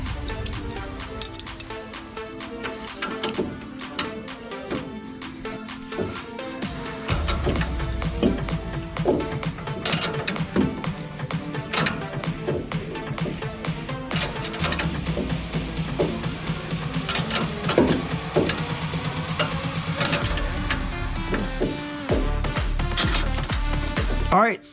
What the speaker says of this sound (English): My impact wrench doesn't get in there, so I'm gonna have to use a 18mm wrench on the bolt